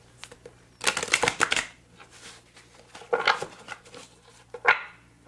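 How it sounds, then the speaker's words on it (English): Oracle and playing cards are shuffled in three distinct riffling bursts nearby, each a brisk flutter of card edges separated by quiet pauses. "I'm going to shuffle 2 more times for you"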